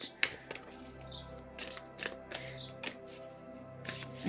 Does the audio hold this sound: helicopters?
no